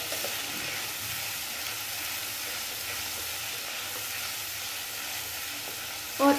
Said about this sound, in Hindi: और इसको मसाले को हम अच्छे से भून लेंगे चलाते हुए।